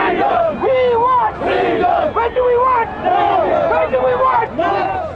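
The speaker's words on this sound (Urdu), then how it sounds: "سکھ مظاہرین خالصتان کا پرچم تھامے آزادی کے نعرے لگاتے رہے" Sikh protesters holding Khalistan flags chant freedom slogans at a Kashmir freedom march toward the Indian high commission, loud call-and-response voices rising in repeated rhythmic bursts.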